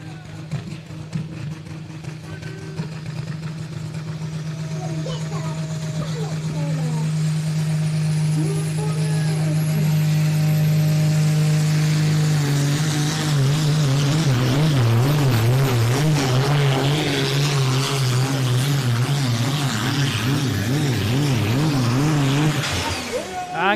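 A pulling tractor's engine at a European Championship tractor pull in Edewecht, roaring loud and continuous down the track with a wavering, uneven tone as it bounces, under an announcer's commentary.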